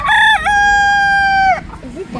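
A rooster crows loudly and close by, one long sustained cock-a-doodle-doo, followed by quieter background noise.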